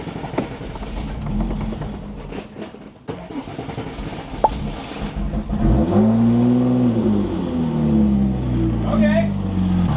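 A Porsche 996 911 Turbo engine in a garage idles roughly, then revs up into a loud, sustained rising and falling drone, with people talking over the first part.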